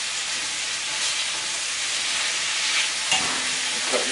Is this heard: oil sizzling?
yes